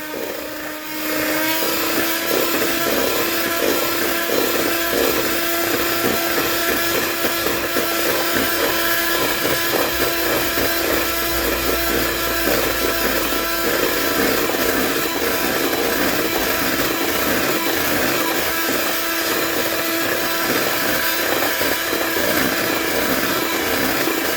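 An electric mixer whirs loudly and continuously, a steady motor drone with rattling, scraping texture as cream is whipped, with no talking.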